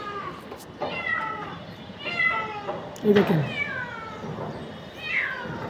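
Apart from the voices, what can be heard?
cat meowing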